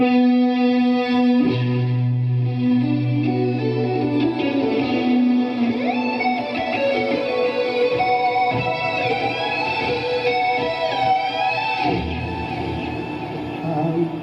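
Electric guitar run through echo and fuzz effects, a sustained distorted tone with bending, swelling notes and trailing repeats, loud and continuous.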